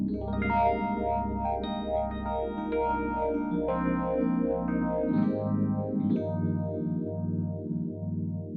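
Korg Grandstage X electric piano chords pulsing with a steady, wavering tremolo, the volume throbbing rhythmically throughout, played alone with no talking.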